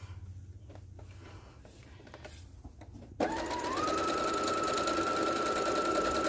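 Home sewing machine running decorative stitches, starting abruptly after quiet handling noises and then holding a loud, steady whirring hum with a rising motor tone, close by and alone.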